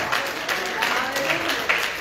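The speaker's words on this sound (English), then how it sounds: "Let's give the Lord a hand clap of" A congregation claps hands in praise during a church Sunday service, scattered sharp claps mixed with crowd noise and voices talking over them.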